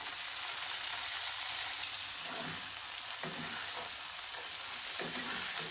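Tofu and bean sprouts stir-fried in a pan, a continuous hissing sizzle with intermittent soft scraping and tossing sounds, fairly quiet and close.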